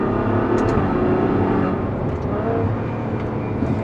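Ferrari GTC4Lusso V12 engine under way, a loud, steady drone of the engine and road noise from inside the car, slightly easing midway, with no talk.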